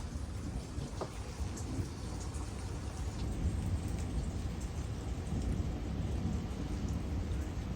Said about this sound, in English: No clapping thunder, but rolling thunder.